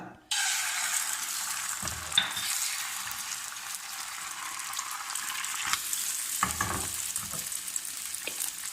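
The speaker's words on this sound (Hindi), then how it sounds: "अब हम इसमें 2 बूंद ऑयल डालेंगे और इसको ऐसे घुमा लेंगे। एक अंडा," An egg drops into a few drops of hot oil in a pan and fries with a loud, steady sizzle right away, with occasional soft utensil knocks and no voices.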